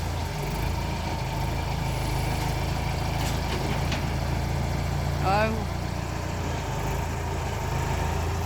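A tractor engine idles steadily during loading onto a barge, a continuous low rumble running throughout, with a person's voice briefly heard over it.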